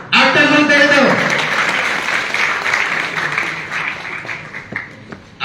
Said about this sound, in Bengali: সুন্দর আয়োজনের জন্য আরেকটা করতালি দাও